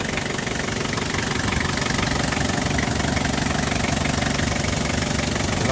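A 2000 Toyota Hilux Tiger 4x4 engine idles steadily and smoothly, a continuous low rumble with even mechanical texture and no voices.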